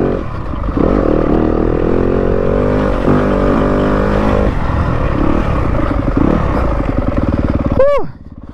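A 2022 Yamaha YZ250FX dirt bike rides mountain single track with a loud, close four-stroke engine that drones and surges as the throttle changes, then cuts back near the end.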